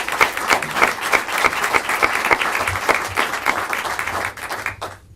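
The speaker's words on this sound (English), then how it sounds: "So applause for Ground Truth Project." Audience applause for an award winner at a movie screening and discussion event: dense, steady clapping from a sizable crowd that holds for about five seconds and then tapers off at the end.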